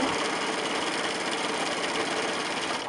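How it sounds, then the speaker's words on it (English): A sewing machine runs steadily as it stitches through a quilt, a continuous close whirring hum without pauses and with no talk. "I'm going to stitch right down there"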